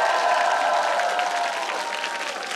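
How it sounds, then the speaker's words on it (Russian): A crowd's sustained applause at a musical stand-up comedy show, steady dense clapping that fades slightly toward the end. "Ваши аплодисменты, друзья"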